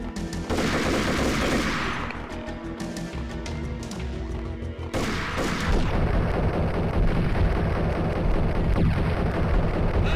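Sniper gunfire in the Max Payne video game: loud, continuous volleys of shots and booming impacts echoing through a narrow area, with a dense, heavy rattle that thickens in the second half.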